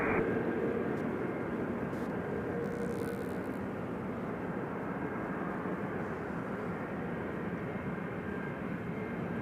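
American airliner at Nashville airport, a steady broadband engine rumble at moderate distance, continuous and even, with faint brief clicks early on.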